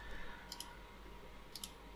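A computer mouse clicks on a window's close button, two quick double clicks about a second apart, faint and isolated over quiet room noise.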